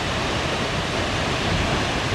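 Seljalandsfoss waterfall in South Iceland crashes down with great force, a loud, steady, broadband roar of falling water heard up close, unbroken and without voices.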